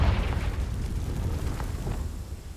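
A Confringo fire spell explodes in Hogwarts Legacy, a loud, close blast that lands at once and keeps rumbling with a low, roaring body before easing off slightly.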